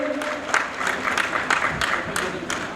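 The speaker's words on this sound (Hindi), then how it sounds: "विजय राव जी जोरदार तालियों से देखिए" Applause from a crowd at a political gathering, a brief spell of scattered, moderately loud clapping with sharp individual claps standing out.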